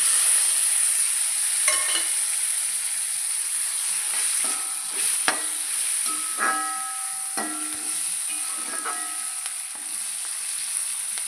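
Washed, cleaned prawns fry in hot oil in a pan with a steady, close sizzling hiss, broken by a few sharp metallic clinks and scrapes of a spoon stirring.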